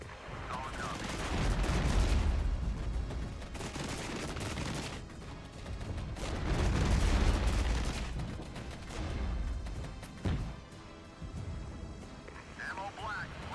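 Sustained volleys of musket and artillery gunfire from the video game Regiments, heavy booming bursts rolling in waves with distant rumbling, continuous and loud through the clip, with a voice talking over it.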